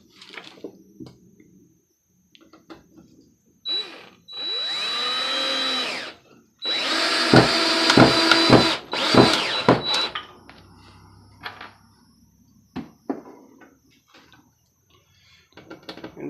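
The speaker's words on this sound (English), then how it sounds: "screw 3 of these in place" A power drill drives screws into a wooden floating shelf: two loud whirring bursts of a few seconds each, the second with stuttering pulses as the screw seats, framed by quiet handling clicks and knocks.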